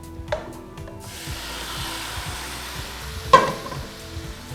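Seasoned mango for mango anchar frying in a hot pan, a steady soft sizzle with scraping stirs and a couple of louder clanks of utensil on metal.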